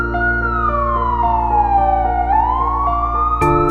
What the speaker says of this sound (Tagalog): Hanggang sa dumating na ang mga pulis upang hulihin, dinampot at dinala si Jonel sa kulungan